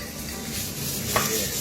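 Kimchi and bacon stir-fry in a pan with a dense, continuous sizzle and a brief scrape of stirring partway through.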